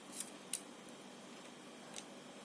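Shutter button mechanism of a Minoltacord twin-lens camera gives a few faint, sharp mechanical clicks, two close together early and one more a moment later, in an otherwise quiet room.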